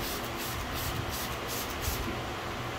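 Chemical Guys Nonsense pH-neutral all-purpose cleaner sprayed in steady hissing bursts from a trigger bottle during interior car detailing, close and continuous with faint rhythmic pulses and no talking.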